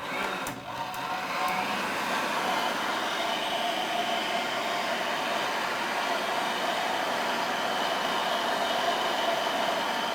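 A hand-cranked meat grinder works smoked venison and fat in a steady, continuous churning grind, loud and close, running unbroken for the whole stretch without talk.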